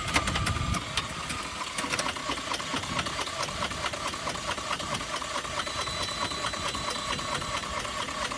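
A car engine at an airport vehicle auction runs steadily with a rough, ticking knock, a continuous close mechanical drone throughout with no talking.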